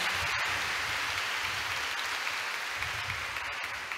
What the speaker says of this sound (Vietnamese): Một tràng pháo tay nữa dành cho đại gia đình 9 thành viên.